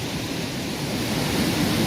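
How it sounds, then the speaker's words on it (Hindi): Teesta river in Sikkim rushes steadily in heavy rain, a broad continuous roar with no breaks and no voices. "ये तीस्ता नदी है"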